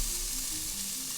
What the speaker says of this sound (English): Let's see if we get the sizzle.